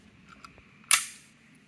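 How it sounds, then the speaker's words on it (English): A single sharp crack from a 9mm SIG P250 compact pistol fired outdoors on a rural homestead, loud and close, with a brief decaying echo after some faint handling noises. "I'm going to fire my 9mm SIG P250 compact."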